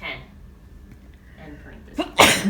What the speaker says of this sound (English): Everyone has the sneezes today.